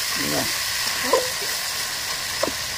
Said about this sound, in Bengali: চিকেনটা মোটামুটি ভাজা হয়ে গেছে, এখন লেগে ধরতেছে